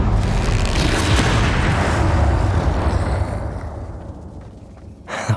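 A Confringo spell explosion in Hogwarts Legacy bursts loud and close, a heavy booming roar that gradually tapers off over several seconds, followed by a small sharp hit at the end.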